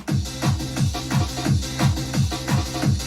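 Synth stabs from a happy hardcore tune made with the Rave Generator RG2 plugin, punching in a steady fast rhythm of bright chords over a pulsing bass line, loud and up front with no voices.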